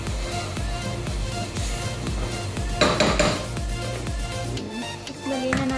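Potatoes being mixed in a cooking pan, with steady scraping and clattering of a utensil against the metal and a louder burst of clanks partway through.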